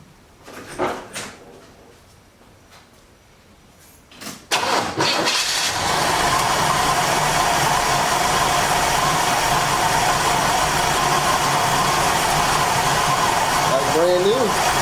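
A 1973 Chevy Nova engine running off a gas bottle: a few quiet clunks, then a brief crank that catches into a loud, steady, close idle that carries on to the end, with some talk around it.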